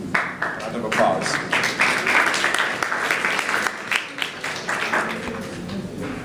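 Delegates at a model UN general assembly closing session applaud together, a steady wash of many hands clapping at moderate loudness across the room.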